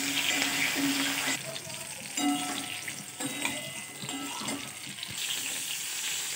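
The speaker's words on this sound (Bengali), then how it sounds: "লো ফ্লেমে ভেজে নেব।" Pointed gourd (potol) frying in oil over a low flame, with a steady soft sizzle and occasional clinks and stirring scrapes from close by.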